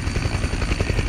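A helicopter comes in to land on Navassa Island to pick up the last operators of a radio expedition, its rotor thudding in a fast steady beat close and loud, with no talking.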